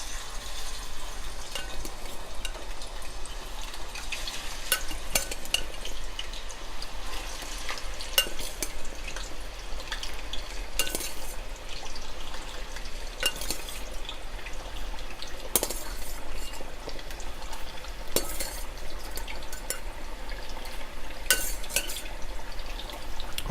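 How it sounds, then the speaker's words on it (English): Tater tot potatoes frying in hot oil give a steady, close crackling sizzle, punctuated by a few louder bursts and faint stirring clinks, with no talking. "now we're going to gently put the potatoes into the oil"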